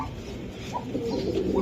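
Racing pigeon cooing close by, a low soft throaty coo that swells over a steady murmur of background noise with no talking.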